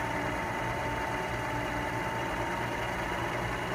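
Two Prius electric motors driven against each other at around 1200 to 1600 RPM give a steady, moderately quiet mechanical hum and whine that stays level and unbroken throughout.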